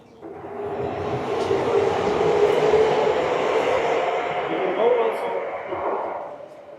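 A metro train at Anděl station in Prague gives a loud, continuous rumbling roar that swells and holds for several seconds before easing off, and voices may be mixed into the din.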